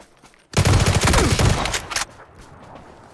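Rapid, loud bursts of automatic gunfire in the PUBG battle royale game, a dense volley lasting about a second and a half before cutting off, followed by quieter distant background noise.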